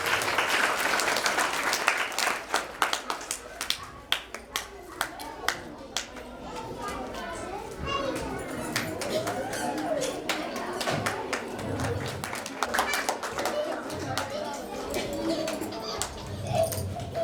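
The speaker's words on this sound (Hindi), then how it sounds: "तालियों में कंजूसी मत कीजिए" Audience clapping at a school cultural gathering, sharp scattered claps early that settle into a softer mixed patter, while a voice talks over the middle and a dog whimpers.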